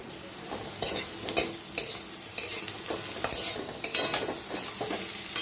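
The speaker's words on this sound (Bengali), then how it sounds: "চালটা ভালো করে ভাজা হয়ে গেছে মশলা দিয়ে কষানোটাও হলো ঠিকঠাক" Gobindobhog rice being stir-fried with spices in a pan: repeated close scrapes and knocks of a spatula over a low sizzle, in an irregular stirring rhythm.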